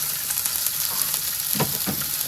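Sliced big onions frying in oil in a pan, a steady close sizzle with a few stirring scrapes toward the end.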